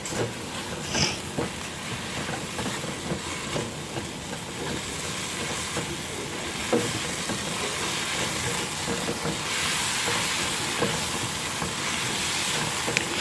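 Egg and seasonings sautéing for ginisang ampalaya (bitter melon) make a continuous, fairly loud frying hiss that holds steady and swells slightly toward the end.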